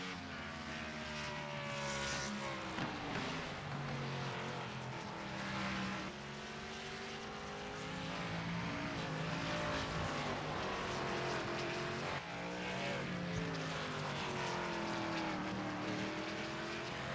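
Race car engines from a sim racing video game at the Charlotte roval, loud and continuous, with several cars' engine notes rising and falling in pitch as they pass through corners, no talk.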